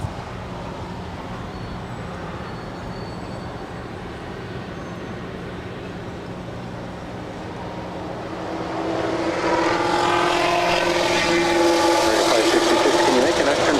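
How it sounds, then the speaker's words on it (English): Airbus A320 airliner crossing a runway at LAX airport, a steady broadband jet roar that swells louder in the last few seconds as it draws nearer, with no talk. "It's an A320 now crossing over 25 right."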